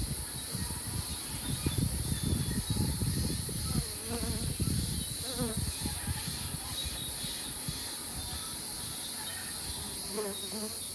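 Honeybees buzz in a dense, continuous drone while a beekeeper opens and inspects the brood area of a hive, the swarm sound close and steady with occasional handling noises.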